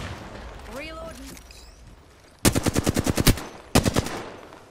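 Gunfire in a competitive shooter video game: two rapid bursts of loud, sharp automatic shots, the first about ten rounds and the second shorter, following a stretch of quieter game sounds and a brief voice-like tone.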